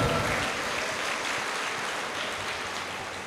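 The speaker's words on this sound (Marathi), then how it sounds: "टाळ्या वाजवा." Audience clapping steadily at a Marathi awareness lecture, a dense, even wash of applause that carries from start to finish and fades only slightly toward the end, with no voices over it.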